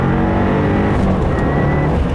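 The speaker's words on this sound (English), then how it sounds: "we'll just do a second gear pull, full throttle, no lift shifts" A 2015 Subaru WRX with a high-flow panel air filter pulls hard at full throttle in second gear. The engine drones loud and close with a steady rising tone and no break for a shift.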